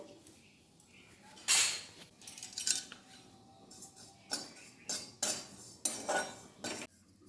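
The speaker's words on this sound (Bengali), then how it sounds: "কড়াইতে জিরেগুলো দিয়ে দিচ্ছি, জিরেটা একটু রোস্ট করে দিয়ে নেব।" Cumin seeds dry-roasting in a wok, heard as intermittent metallic scrapes and clinks of a stirring utensil with quiet gaps between strokes.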